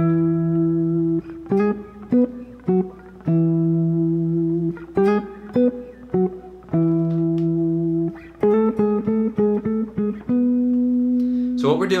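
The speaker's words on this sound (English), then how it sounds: "it's a doubled octave guitar riff." Electric guitar riff played in doubled octaves, sustained notes alternating with short choppy bursts and brief gaps, clean and close with no voice over it.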